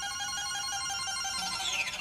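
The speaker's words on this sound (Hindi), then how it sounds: "रुको हम जरा बिट्टू भैया को फोन करें।" A telephone rings steadily while a call is placed, a continuous electronic ringback tone with a bright pitch shift near the end, no voices over it.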